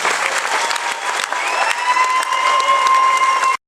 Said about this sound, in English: So why don't we give them all another round of applause.